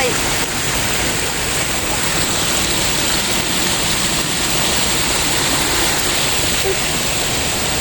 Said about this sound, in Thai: เสียงน้ำตกนะคะทางที่จะไป